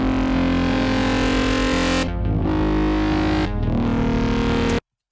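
A drum and bass production plays a pattern of bass plucks, each pitched to a different note, in a dense, distorted, loud mix with brief filtered dips before cutting off.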